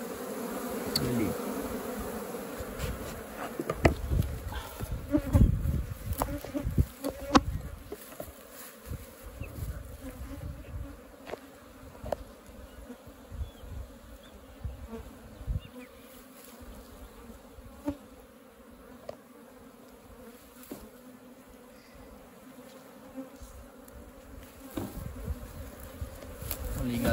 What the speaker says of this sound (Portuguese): Ali, galera, como é que o enxame tá bonito, né?